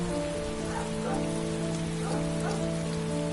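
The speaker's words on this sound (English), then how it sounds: "It's raining. I'd better get back inside." Rain pours steadily in the video game Heavy Rain, a constant hiss of drops on surfaces with soft patters, under a low droning tonal hum and no talking.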